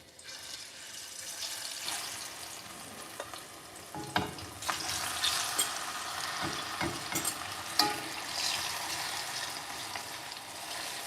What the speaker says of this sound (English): I've just been craving plantains and egg sauce, and that's what I'm doing right now.